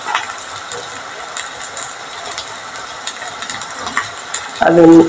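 Green chillies and curry leaves drop into a hot pan while kadala curry is being made. A loud sizzle bursts up near the end after a quieter stretch of low background noise and stirring.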